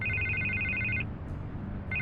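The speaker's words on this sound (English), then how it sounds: "I can't get the phone to stop ringing" A telephone in the Batman Telltale Series game rings in an electronic trill, one long ring then a pause before the next begins, clear and moderately loud over a low background hum.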